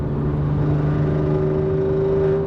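Alfa Romeo Giulia Quadrifoglio with an X-pipe exhaust cruising at about 70 mph and 2,700 rpm, heard from inside as a steady, even engine drone with a low hum throughout and no talking.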